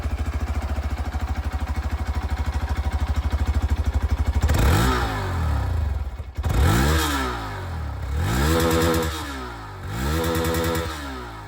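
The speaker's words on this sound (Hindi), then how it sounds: "और अब मैं आप लोगों को इसकी जो एग्जॉस्ट" Exhaust note of a 2023 Hero Xpulse 200 4V motorcycle: a steady idle for several seconds, then a series of sharp throttle blips rising and falling in pitch, loud and close with no talking.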